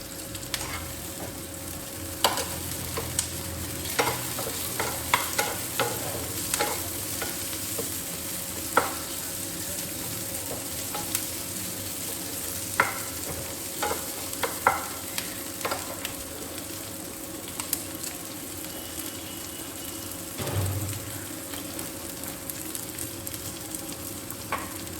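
Four or five chopped garlic cloves fry in a pan with a steady soft sizzle, as a utensil scrapes and stirs in frequent sharp clicks over the hiss, close and clear with no talking.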